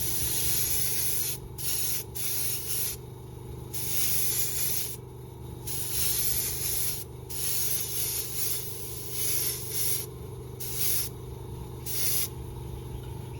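Airbrush spraying Alclad II chrome paint on a model, steady close hiss with bursts of spray in an irregular on-off rhythm over a constant compressor drone.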